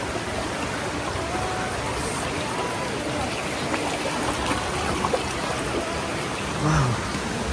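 Clear water rushing steadily at Taytay Falls, a waterfall in Majayjay, Laguna, a broad continuous wash of noise heard up close with no pauses and no clear speech over it.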